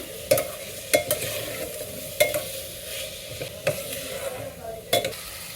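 Tomatoes, curry leaves, red chillies and green chillies frying for parotta salna, a soft steady sizzle punctuated by six or so distinct utensil knocks and scrapes at irregular intervals, close by.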